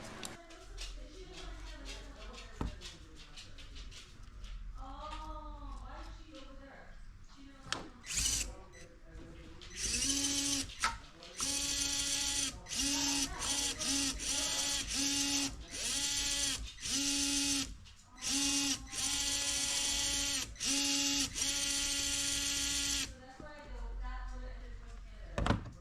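Small electric motor and servo of a TRX-4M Defender RC truck whirring in repeated bursts of several seconds each, with short pauses between, close up, with someone talking at the start and end.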